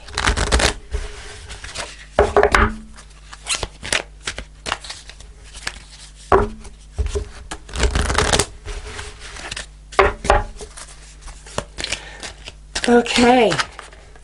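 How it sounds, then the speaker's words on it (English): Fairy oracle cards are shuffled by hand in quick riffling bursts separated by pauses, close and crisp, with a person speaking briefly near the end. "I'm going to pull a fairy card to finish off the reading."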